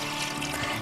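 Water pours into a pot of small cubed tomato pieces, making a continuous gushing, splashing stream from start to finish with no voices.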